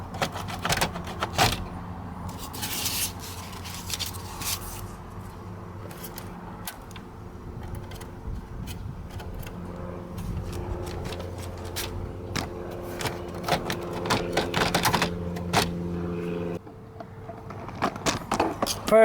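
Plastic dashboard trim around the steering column of a 1997 Ford F-150 being pried loose, with scattered clicks, snaps and rattles of handled plastic and faint keys, close and intermittent against a low steady hum.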